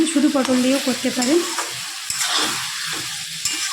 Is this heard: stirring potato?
yes